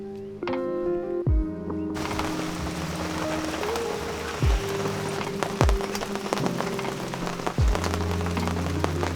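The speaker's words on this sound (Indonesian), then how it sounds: "Kondisi cuaca masih hujan gerimis." Light drizzle falls at a family campsite at Private Camp Cikijang Dwikora, Pangalengan, making a steady close patter broken every couple of seconds by heavier, dull drops, with no talking.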